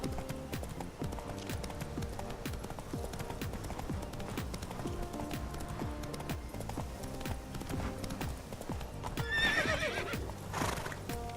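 Hoofbeats from a horse galloping in The Witcher 3 video game run steadily throughout, and near the end the horse lets out a loud, distinct neigh, with game music faintly underneath.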